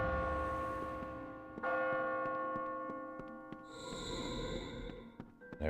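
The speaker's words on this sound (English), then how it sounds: "Ring the bell." A church-style bell struck several times in the Kingdoms of Amalur: Re-Reckoning video game, each clear ringing strike sustaining and overlapping the next, with a brighter, higher chime entering near the end.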